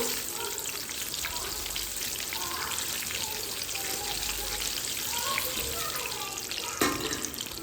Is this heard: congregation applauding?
no